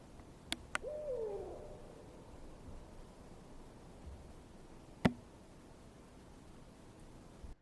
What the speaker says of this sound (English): So we can hear the owl.